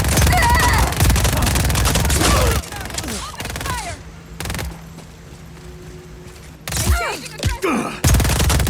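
Bursts of gunfire in the Just Cause 4 video game, loud rapid volleys at the start and end with scattered shots and thuds between, over a quieter stretch with faint voices and effects.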